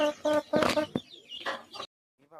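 Hens cluck and a large rooster calls close by, with a brief burst of noise and a quieter cluck at the end.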